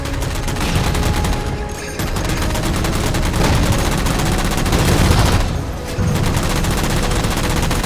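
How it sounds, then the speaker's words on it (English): Rapid sustained gunfire in Halo 4 as jammers are shot down, dense automatic bursts with brief gaps, loud and close, with no talking. "Shoot them down."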